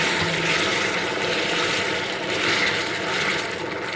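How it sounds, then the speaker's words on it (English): Remaining water poured into hot simple syrup in a saucepan, a continuous rushing, bubbling hiss at close range that rises and falls slightly as the liquid goes in, with no talking. "And then we're going to add the remaining water."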